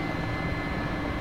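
Large helicopter of over 11 tonnes lifting off, its engine and rotor making a steady, dense, broadband roar that stays even and close throughout, with no voices.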